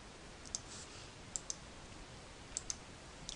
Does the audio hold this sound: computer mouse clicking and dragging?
yes